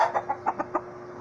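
A rooster gives a quick run of about six soft, rhythmic clucks at close range, with no other sounds over them.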